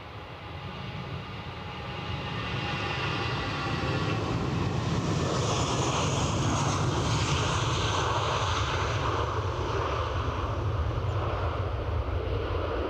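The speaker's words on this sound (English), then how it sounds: "Vueling on the move," A Vueling jet airliner rolls for takeoff at Edinburgh, its engines building from a moderate rumble to a loud, sustained roar that holds steady and near for the whole stretch.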